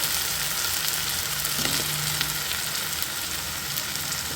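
Cut potato chunks for a methi aloo curry with spring onions and tomato sizzle steadily in hot oil in a pan, a continuous close crackling hiss with no talk.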